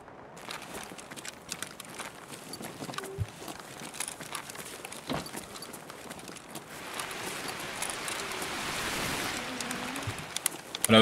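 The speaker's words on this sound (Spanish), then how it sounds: "¿Cómo llueve, boludo?" Rain falls in the video game Escape from Tarkov, a soft, steady patter with scattered drips and light crinkling textures that grows slightly fuller toward the end.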